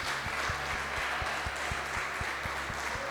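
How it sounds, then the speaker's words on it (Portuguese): A church congregation applauds the Lord during a morning service, a broad wash of many hands clapping under steady rhythmic low thumps from music, continuous and moderately loud. "Você pode aplaudir bem forte ao Senhor Jesus."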